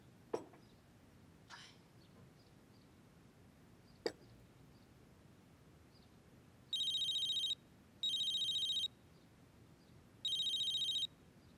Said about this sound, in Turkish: Asra rehber Madame Dalila'nın telefonu.